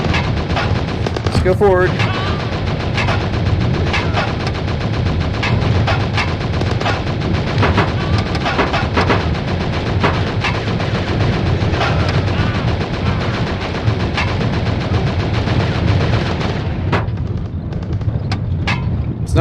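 Rapid, loud gunfire keeps going almost without pause while a vehicle is driven in the VR shooter Operation Warcade, with a voice speaking briefly over the shooting.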